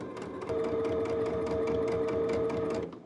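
A sewing machine runs steadily as it stitches and pulls fabric through, giving a close, even mechanical whir with a sustained motor hum that lasts a few seconds and then stops.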